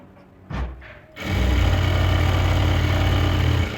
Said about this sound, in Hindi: इस तरफ मैं हाफ में सिलाई लगाऊंगी